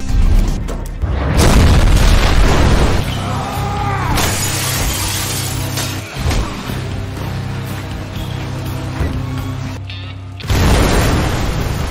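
Gasoline drums explode with a loud, close boom and shattering blast, followed by a long rumbling, crackling roar of debris and fire.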